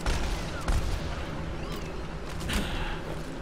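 Gunfire rattles in the video game Overwatch, a dense, loud stream of shots and booms under a continuous battle din, close and unbroken for the whole stretch.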